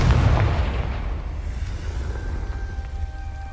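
A Confringo fire spell from Hogwarts Legacy detonates in a deep booming burst right at the start, its low rumble slowly decaying across the rest of the moment with faint tonal game sounds lingering underneath.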